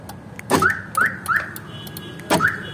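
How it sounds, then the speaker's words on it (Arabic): A newly installed car alarm is tested, giving five sharp electronic chirps at uneven intervals, close and clear over a quiet background. "كده دي توصيل جهاز الانذار في الدايولانوس"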